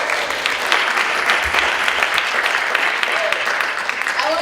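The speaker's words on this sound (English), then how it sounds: "Round of applause." Steady applause from a leadership conference audience, many hands clapping in an even, continuous wash, with faint voices underneath.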